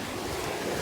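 Ocean waves wash and crash among the rocks of a tide pool area, a dense, continuous roar of surf with wind noise on the microphone, close and steady with no voices.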